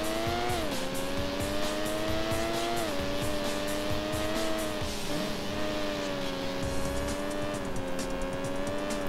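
A Porsche 911 (996) in the racing game Need for Speed: Porsche Unleashed runs at high revs with a steady engine drone that shifts pitch while braking, with tire squeal over a continuous loud rush of road noise.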